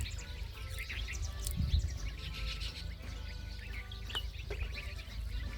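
Bulbuls and sparrows chirp and call in a bird house, scattered bright tweets over a steady low background hum, moderately near with no talking.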